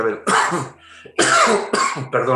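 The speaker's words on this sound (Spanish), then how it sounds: "Se me ha puesto una cosita ahí en la garganta, así que disculpar por la tos" A person with an irritated throat coughs several times, harsh broadband bursts close together in a short run, loud and near with brief gaps between them.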